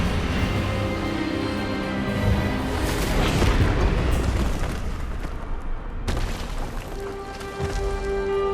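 A loud, sustained burst of magical spell energy from the Hogwarts Legacy video game, a booming, crackling rush that swells and rumbles for several seconds before cutting off abruptly, followed by a quieter tail.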